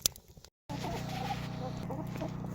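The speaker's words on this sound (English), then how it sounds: "And listening to the chickens squawk in the background." Chickens cluck and squawk in the background on an off-grid chicken farm, with a short burst of sound followed by a brief dropout, then steady moderate farmyard clucking against a constant low hum.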